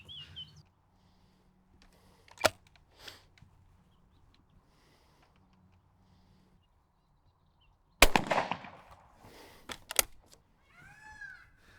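A shotgun loaded with an Eley Select 28 g 7.5 plastic-wad cartridge fires from a half-choke top barrel, giving a sharp loud report, with other sharp cracks and faint chirps scattered through the quiet.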